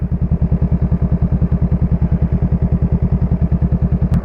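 A motorcycle engine idles close by during clutch and throttle practice, a loud, even, rapid thumping pulse that holds steady throughout, with no speech.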